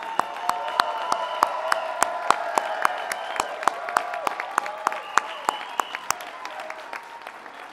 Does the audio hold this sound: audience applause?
yes